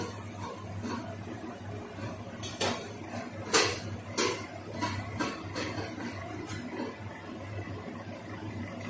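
A metal lid is lifted off a cooking pot of simmering pointed gourd curry, giving a few sharp clanks and clinks against the rim over a steady low kitchen hum.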